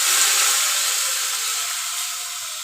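Water poured into frying curry sets off a loud, broad hissing sizzle that fades gradually over a few seconds, with no voices.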